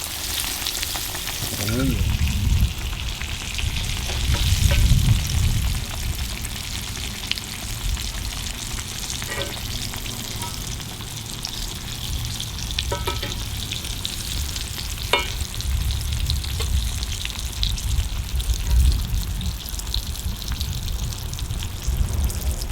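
Green tomatoes, zucchini and yellow squash fry in hot oil with a steady, loud sizzle, occasional stirring and spatter bursts rising and falling throughout.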